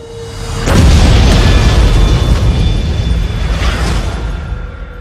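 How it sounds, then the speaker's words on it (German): A loud, close explosion bursts out after a brief quiet moment, followed by a sustained deep roaring rumble that slowly tapers off. "Eine Explosion erschütterte heute die Stadt."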